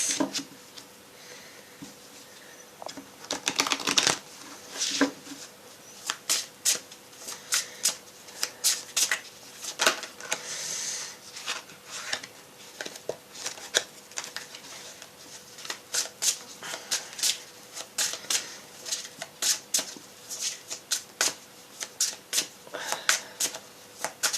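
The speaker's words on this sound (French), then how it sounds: "Je vais brasser un peu plus." Oracle cards are shuffled by hand in a series of quick papery riffles and slaps that repeat in irregular bursts, close and fairly loud, with no talking.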